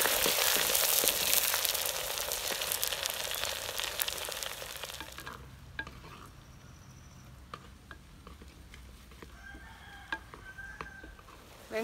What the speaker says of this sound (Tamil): இப்போ நம்ம எடுத்திருக்க சின்ன வெங்காயத்தை போட்டுக்கணும்.